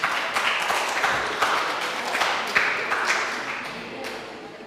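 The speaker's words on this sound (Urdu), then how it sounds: "تالیاں ہونی چاہیے۔" An audience at a mushaira claps steadily in a dense, continuous burst of applause that fills the hall and then slowly thins out.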